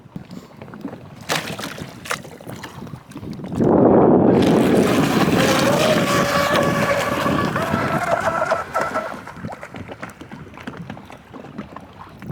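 A 3D-printed RC boat runs on choppy water, its motor rising to a loud buzzing whine midway and holding for several seconds before fading, with wind buffeting the microphone throughout.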